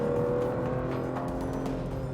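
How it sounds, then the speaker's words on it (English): An Aston Martin Vanquish engine revving, a sustained and fairly close engine note with steady harmonics and no voices. "You want to always rev the engine up."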